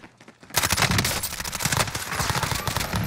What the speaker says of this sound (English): This guy shot from behind.